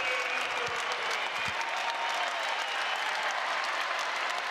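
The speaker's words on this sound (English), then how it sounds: "The crowd is on their feet. They love it." A home crowd at a Big Ten college wrestling dual, the Minnesota Gophers' meet, claps and cheers on its feet, a steady, roaring wall of applause that continues evenly throughout without a break.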